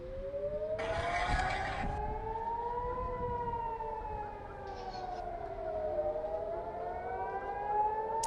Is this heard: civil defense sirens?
yes